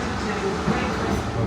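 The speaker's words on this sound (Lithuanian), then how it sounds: "Pagaliau traukinys." A train pulls into a station in the United Kingdom, a steady low rumble and rolling hum with faint clatter, heard close on the platform.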